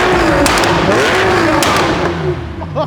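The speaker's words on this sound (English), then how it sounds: "he just revved it, but it shoots a flame" A Porsche 911 Carrera 4S engine revs in quick rising and falling bursts, with sharp pops and thumps as it shoots flame, loud and close.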